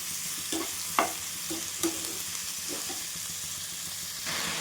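Sliced ivy gourd with salt fries in a pan for a Maharashtrian chutney, a steady close sizzle broken by several sharp scrapes and clinks of a spoon stirring the pieces.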